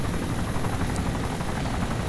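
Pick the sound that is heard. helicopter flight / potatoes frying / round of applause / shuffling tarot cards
helicopter flight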